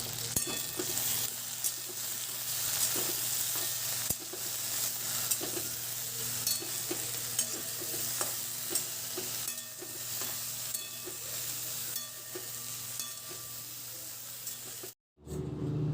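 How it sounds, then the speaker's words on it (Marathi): Okra fries in hot oil in a pan, giving a steady, close sizzling hiss with frequent scraping and clatter as it is stirred. The frying goes on without a break until a short silence near the end. "आता ही भेंडी आपल्याला चांगली तेलात फ्राय करायची आहे।"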